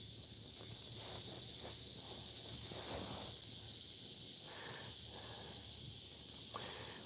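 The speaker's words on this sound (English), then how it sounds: "We have some very loud, I want to say cicadas out there" Loud cicadas drone outdoors in a steady, high-pitched wall of buzzing that holds throughout, with faint rustles and small knocks nearby.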